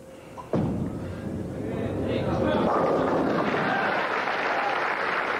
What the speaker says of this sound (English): There she is applauding that shot